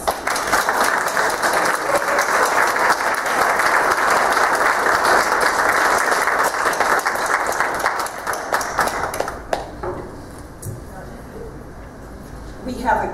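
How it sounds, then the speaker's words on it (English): Sustained, dense applause fills a church gathering honoring a reverend, loud and steady for about nine seconds before thinning into scattered claps and murmuring voices. "one more round of applause"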